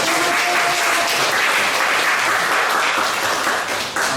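Loud, dense applause from a lecture audience honoring a guest, continuous close clapping throughout that thins slightly at the very end.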